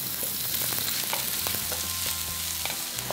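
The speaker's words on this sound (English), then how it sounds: "I always add a little bit of salt when I'm sauteing onions." Onions fry in a hot pan for Indian masala fried rice, a steady dense sizzle with occasional stirring clicks and scrapes, close and fairly loud, no voices.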